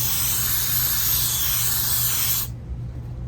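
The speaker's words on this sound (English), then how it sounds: "you just take the bearing and spray brake parts cleaner on it" Aerosol brake parts cleaner sprayed onto a greasy wheel bearing during a wheel stud repair: one loud, continuous pressurized hiss lasting about two and a half seconds, then cutting off abruptly to a low background hum.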